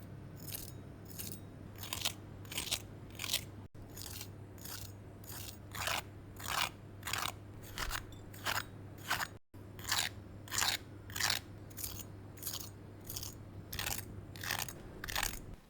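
Crunchy fried chicken coated in a rice flour and starch batter is bitten and chewed close up, with a steady run of sharp, crisp crunches in a regular rhythm and no talking.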